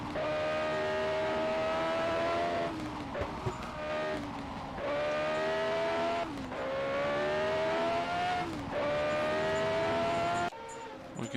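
A race car engine drones loudly and continuously through corners, its pitch climbing under throttle, then dipping and rising again in repeated cycles with brief lifts between them, heard close and without any talk.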